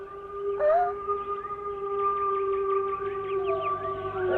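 Wild dogs howl in a jungle, a long sustained howl held steady with a sharp rising cry near the start, fairly faint and distant, with no voices.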